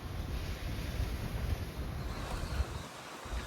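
Strong wind gusts across open ground at an archaeological cemetery in the Peloponnese, Greece, a low rushing buffet that batters the microphone unevenly throughout.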